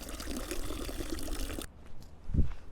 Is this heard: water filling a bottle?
yes